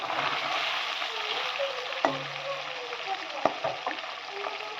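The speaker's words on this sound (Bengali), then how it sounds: "গায়ে তেল ফুটছে না কিন্তু পটপট আওয়াজ হচ্ছে" Stingray fish fries in oil in a wok, a steady hissing sizzle with a few sharp pops and a soft utensil knock, close and moderately quiet, no voices.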